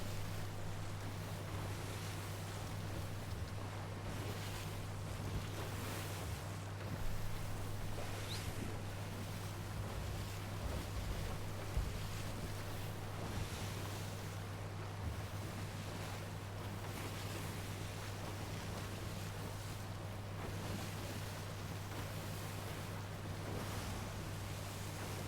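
Ocean waves and a steady wash of water and wind around a sailing ship at sea in the Sea of Thieves pirate game, a continuous even roar with a low hum underneath and no talking.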